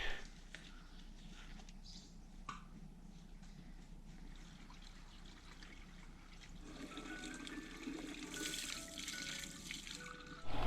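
A red solution of lime and two gallons of water gushes out of a rusty engine cooling passage, a steady, close splashing rush that grows louder and brighter toward the end.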